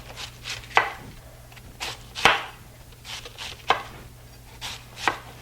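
A knife cuts around the sides of a cabbage to remove its core: about eight close, crisp chopping strokes land in an uneven rhythm against a board, with no talking.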